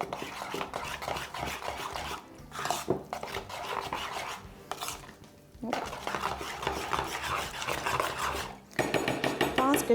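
A spoon or whisk scrapes and clatters steadily against a bowl while stirring cookie batter made with coffee instead of milk, the mixing loud and close with brief pauses in the rhythm.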